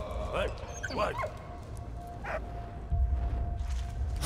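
A dog yips and whimpers in the video game Valiant Hearts: a few short, high calls come and go over a low rumbling background, with no talking.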